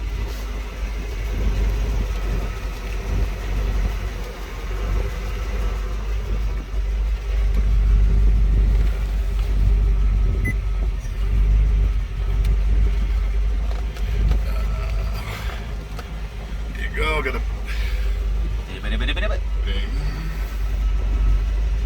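A 1996 Chevrolet Corvette with an LT4 V8 idles with a deep, steady low rumble, while people talk nearby over it.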